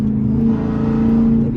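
A Dodge Challenger SRT8 392 V8 accelerates with a deep, steady engine drone held close and loud for the whole stretch, with a voice briefly in the background.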